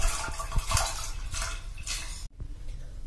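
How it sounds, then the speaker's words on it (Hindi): Lentils poured into four cups of water in a pressure cooker for dal tadka, giving a continuous splashing, rattling wash of water with small clinks of the metal pot, then a brief pause and quieter sloshing. "और ये दाल डाली है।"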